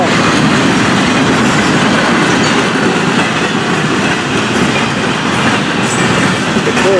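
A Florida East Coast Railway freight train rolls past at close range, its cars producing a loud, steady rumble with rhythmic clickety-clack of wheels over rail joints and occasional faint squeals throughout.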